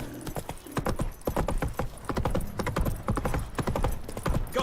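Roach's hooves clip-clop at a steady, brisk pace in The Witcher 3, with a close, even, percussive rhythm and a faint whinny at times.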